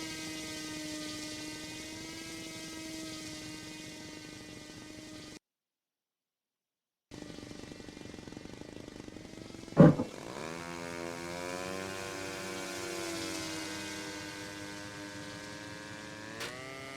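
Simulated profile plane propeller in the RealFlight simulator game, a continuous buzzing drone with a steady pitch, briefly cut to silence, then returning with a sharp click and a climbing rev as the engine speeds up.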